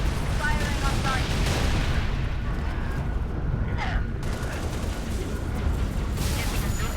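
Gunfire in the video game Halo: Reach, with dense, rumbling weapon bursts and explosive booms layered over continuous battle noise, loud and close, with a brief quieter lull midway.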